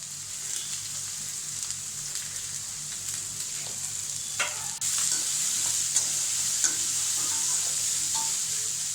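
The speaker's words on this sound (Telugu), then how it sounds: "ఉల్లిపాయ పచ్చిమిరపకాయ బాగా వేగాలి." Onions and green chillies frying in a pan, a continuous close sizzle with stirring scrapes that swells louder partway through and stays hissing steadily to the end.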